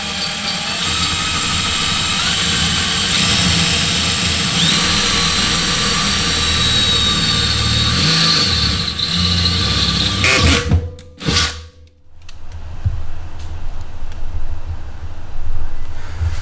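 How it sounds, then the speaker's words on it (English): A power drill bores a hole through a Weber 22-inch kettle grill for a thermometer, a loud, close, steady grinding whine running for about eleven seconds, cutting out briefly, then resuming with no talking. "So try to go slow, so we're not allowing too much spinning of the bit itself."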